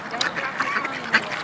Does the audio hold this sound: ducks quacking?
yes